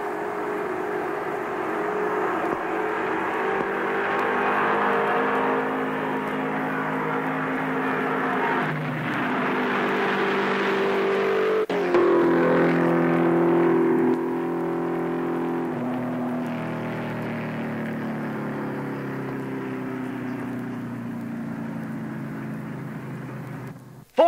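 Richard Petty's race car laps at nearly 200 mph, its engine a loud, sustained roar whose pitch shifts through the lap, swelling near the middle and easing slightly toward the end.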